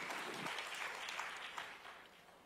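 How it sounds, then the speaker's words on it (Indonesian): Church congregation applauding and cheering for God during a sermon, a steady wash of clapping that fades slightly toward the end. "Tepuk tangan sorak-sorai bagi Allah kita."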